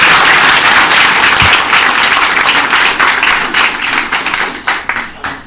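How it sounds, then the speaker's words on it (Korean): At the close of a Korean church gathering, a room of attendees breaks into loud, close applause that holds steady, then thins out into scattered individual claps and fades near the end. "박수를 한번."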